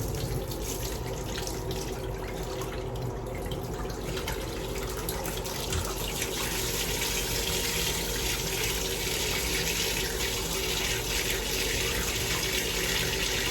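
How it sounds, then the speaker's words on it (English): Water drains steadily from a 240-gallon freshwater aquarium during cleaning, a continuous rushing flow like a running tap, loud and constant for the whole stretch with no talking. "Drain out all the water"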